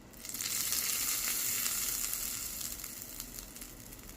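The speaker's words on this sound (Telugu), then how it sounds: "చూస్తున్నాం కదా, మనమైతే పోపు వేసేసుకున్నాం." Tempering sizzles hard in hot oil for tomato chutney, a loud, steady crackling fry that swells at once and holds throughout, alone with no voices.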